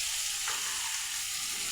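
Chopped onions sizzling in hot oil in a pan together with green chillies and curry leaves, a steady close crackle that carries on unbroken with no voices.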